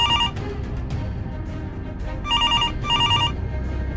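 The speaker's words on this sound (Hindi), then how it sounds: "जब एक पुलिस वाले का फोन आता।" An electronic telephone ring in a haunted-house horror cartoon, two distinct trilling bursts ringing loudly over a dense low rumbling background, with fainter ring-like pulses before them.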